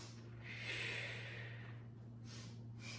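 A quiet sniffing inhale during a Pilates exercise, one soft breath drawn in through the nose, followed by faint short breaths over a low steady background hum.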